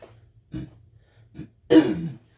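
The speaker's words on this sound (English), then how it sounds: "Sorry for the cough, guys." A few short throat-clearing sounds from a froggy throat build into one harsh, close cough, each burst separated by brief silence.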